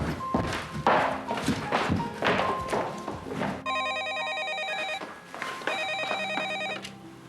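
Telephone ringing in a home: a few dull thuds and knocks first, then a regular electronic ring pattern repeating in two bursts, clear and close.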